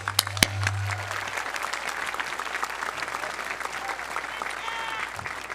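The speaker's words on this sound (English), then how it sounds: "Please give them a round of applause." Audience applause for the faculty and staff of North Hagerstown High School at a graduation ceremony, a steady dense clapping from a large crowd that holds for the whole stretch with no talk over it.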